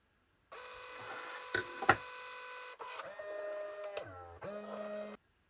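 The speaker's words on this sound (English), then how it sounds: "perhaps print out a couple of strips just with this shell on" A Brother full colour photo printer prints strips with a mechanical whirring drone in segments, a few sharp clicks and knocks, then a lower motor buzz near the end before stopping, close and alone.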